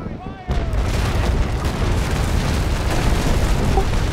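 Heavy cannon fire from sailing warships in a naval battle game with first- and third-rate ships, a loud boom followed by a continuous dense rumble of distant broadsides, with voices faintly under it.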